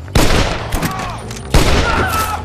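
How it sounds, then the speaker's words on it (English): Gunfire rings out in the Red Dead Redemption video game during a hostile shootout: two sharp, loud bursts of shots about a second and a half apart, each trailing into echo. "Stop shooting at me!"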